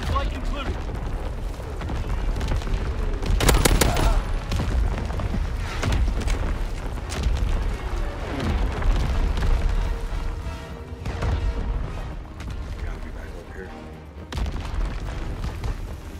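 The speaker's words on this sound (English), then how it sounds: "Artillery ready for orders. Waiting coordinates. Launch this real quick. Firing battery one." An artillery barrage rolls on in Call of Duty WW2, a sustained, heavy rumble of booms and distant blasts that swells and fades across the stretch while voices talk over it.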